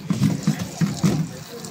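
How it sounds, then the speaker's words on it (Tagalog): Potatoes being washed under running water at a sink, a close splashing and gurgling in uneven bursts, fading toward the end. "Hugasan to at pakukuluan ng 3 minutes."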